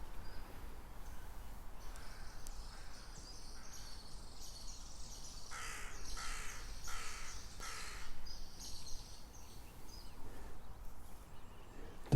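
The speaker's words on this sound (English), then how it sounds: "The birds are coming alive, celebrating the joy of this moment." Birds call at a red dawn, with a crow giving a few clear caws at medium distance against a steady background of crickets and insects, and no talking.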